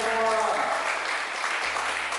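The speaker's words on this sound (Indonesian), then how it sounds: "kita berikan tepuk tangan untuk Ibu Fadli" A seminar audience claps for a presenter at an Indonesian school training session. The dense, even clapping holds steady throughout, with a voice heard briefly at the start.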